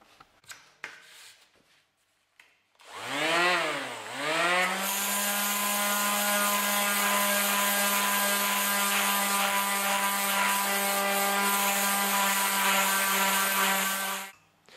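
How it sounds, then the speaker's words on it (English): Power tool sanding excess plexiglass off a guitar pedal light plate clamped in a vise: the motor spins up with a rising whine, then holds a loud, steady high-pitched drone with grinding texture until it stops. "now I'm going to sand off the excess fiber plexiglass as it is now, like this"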